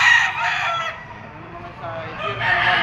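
Rooster crowing at a chicken auction market, a loud drawn-out crow up close, breaking off and rising again near the end among the crowd and murmur of the market.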